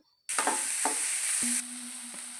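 Vegetables frying over medium heat in a pan for bakery-style bread toast, a steady loud sizzle with a few sharp stir scrapes, easing to a softer hiss with a low hum near the end.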